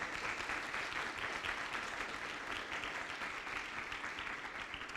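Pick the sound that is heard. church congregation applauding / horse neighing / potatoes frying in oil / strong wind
church congregation applauding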